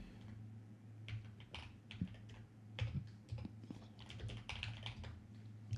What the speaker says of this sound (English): Ceramic creamy keyboard.